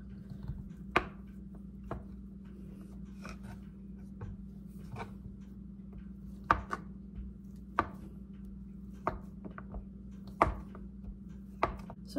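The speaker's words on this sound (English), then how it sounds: "I already have 1 cup cut up into chunks. And I'm gonna cut this one up." A kitchen knife cuts a stick of butter into chunks on a cutting board, with irregular sharp knocks spaced roughly a second apart over a quiet background hum.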